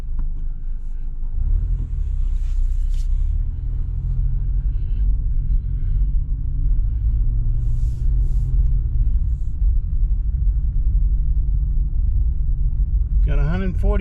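A 2000 Subaru Impreza with 142,000 miles rumbles steadily as it is driven off a lot, its low engine drone continuous throughout, with voices talking over it and a brief rising rev near the end.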